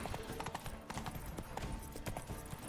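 Roach, a horse in The Witcher 3, gallops with quick, continuous clip-clop hoofbeats, soft and steady, mixed with game ambience.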